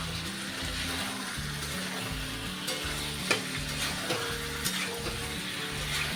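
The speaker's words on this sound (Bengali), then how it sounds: "আবার আমি আলু চিকেন মশলা একসঙ্গে ভালোভাবে কষিয়ে নিচ্ছি" Potatoes, chicken and spices stirred and sautéed together in a pan for chicken curry, giving a steady sizzle with repeated scraping stirs throughout, close and continuous with no voices.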